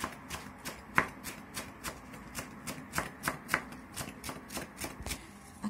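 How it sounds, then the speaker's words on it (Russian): A knife chops fresh cilantro finely on a board in quick, steady taps, roughly three or four per second, close and crisp with a few louder strikes. "Порежем кинзу меленько."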